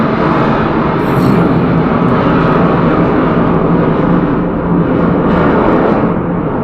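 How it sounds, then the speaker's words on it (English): Fighter jets roar low over a house, a loud, continuous broadband rumble that swells and holds steady for several seconds with no pauses, drowning out everything else. "I have fighter jets flying over my house"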